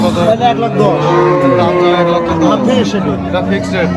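Holstein dairy cow mooing at a cattle market, a long, loud, drawn-out low call over constant chatter and voices of people nearby.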